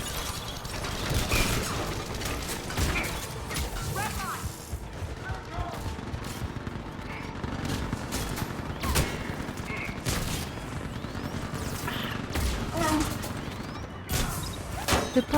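Pistol gunfire in a Mass Effect Legendary Edition combat fight: rapid, repeated sharp shots and mechanical clatter throughout a busy, dense battle mix, with a voice speaking over it.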